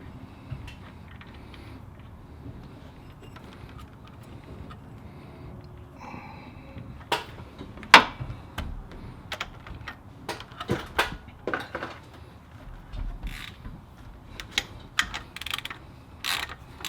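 Impact wrench working a camshaft bolt on a Land Cruiser 1HZ/1HD diesel engine during a timing belt change, giving a series of sharp, close mechanical bursts and rattles from about seven seconds on, with no talking.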